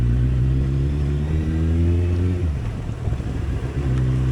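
A Kawasaki Z800 motorcycle is ridden with a steady, loud low engine drone that dips in pitch briefly as it eases off, then settles back into an even hum.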